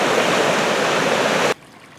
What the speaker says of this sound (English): Down here on just this tiny little creek.